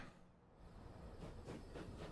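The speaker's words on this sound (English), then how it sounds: "Train's rolling out." A faint, steady rumble of a train rolling out in the video game Transport Fever 2, with soft rhythmic clacking building after a second, heard alone without talk.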